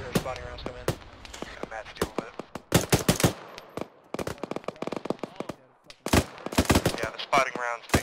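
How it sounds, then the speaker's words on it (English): Spotting rounds and missile launches crack out in an Arma battle, with sharp bursts of gunfire and rapid shot clusters in irregular volleys, loud and near, alongside talk between players. "Spotting rounds make the missile noise as well"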